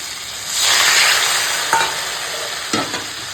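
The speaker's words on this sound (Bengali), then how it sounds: "সবজিটা কষানো হয়ে গেছে আর এখন দিয়ে দেবো জল" Water is poured into a pan of sizzling fried vegetables, potato and pointed gourd with chickpeas, making a loud rushing hiss that swells, then settles into steady frying with a couple of utensil taps.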